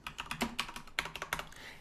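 Fingers type on a Commodore VIC-20 keyboard: quick, irregular clacking keystrokes, close and fairly quiet, about a dozen taps in under two seconds, with no voices.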